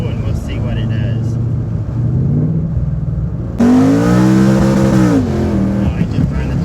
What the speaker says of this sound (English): Oh, it just burned the tires up on that one.